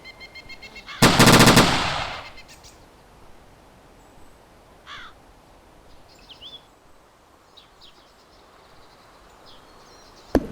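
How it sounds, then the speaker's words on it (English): Machine gun fire in the World War II shooter Iron Front 1944, a single loud close burst of about a second, followed by faint distant shots and ambient noise. "Was that good gunfire there, Charlie?"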